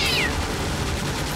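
A short cat meow in a Batman comic dub, high and brief at the start, heard amid dense crackling gunfire and noisy chaos.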